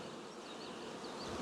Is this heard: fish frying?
no